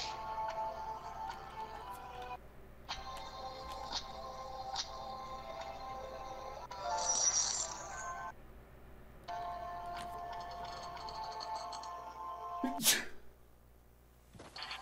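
One short, sharp sneeze comes near the end, loud and close, over quiet background music with chime-like tones.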